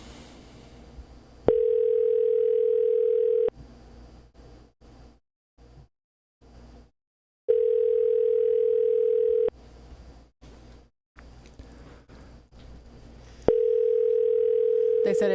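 Telephone ringback tone while waiting for a call to be answered, a steady two-second electronic tone repeating at about six-second intervals, with people talking quietly in the gaps between rings.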